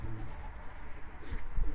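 Low, throaty coos from an injured, exhausted pigeon held in hand rise a few times over a steady outdoor rumble, close by and fairly clear toward the end.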